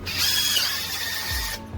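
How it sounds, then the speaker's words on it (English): A drill bores a 1/4 inch hole through PVC pipe, giving a steady high whine for about a second and a half before cutting off abruptly, close and moderately loud. "We're drilling a 1/4 inch hole through it to hold a zip tie."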